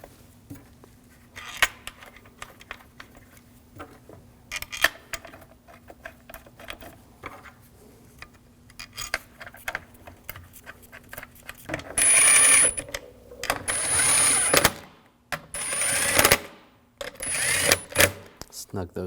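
Intake manifold bolts are started and run in by hand on a 2007-2013 BMW 328i 3.0L inline-six: sparse metallic clicks and taps, then louder bursts of ratchet-like whirring, close up.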